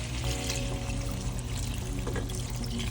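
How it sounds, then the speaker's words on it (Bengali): Hot water pours into a pan of simmering curry with a steady, close rushing splash that does not let up, over a low background rumble. "এবার একটু গরম জল দিয়ে দেবো"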